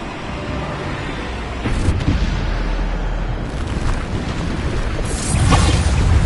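Bombarda explosion spell blasts in Hogwarts Legacy: heavy, close booms stacked on loud, continuous battle noise, with a strong burst partway through and another surge near the end.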